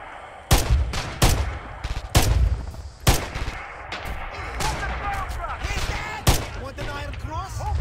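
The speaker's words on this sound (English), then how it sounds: "So apparently artillery is working on them." Artillery and gunfire in the Red Orchestra 2 combat game: several heavy booming blasts in quick succession, then rattling fire and whistling, chirping battlefield sounds trailing off, loud and close.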